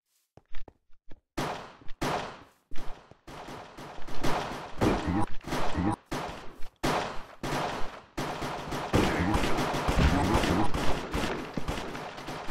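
Pistol shots ring out during the pistol round of a Minecraft MC Go match on Hypixel. Sharp cracks begin scattered, then fire in quick volleys that grow denser, with footsteps and clatter underneath.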